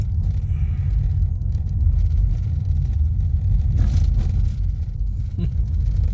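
Toyota Yaris Cross hybrid running in EV mode at moderate speed, a steady low road rumble and tyre drone with no engine note, continuous throughout with a faint bump partway.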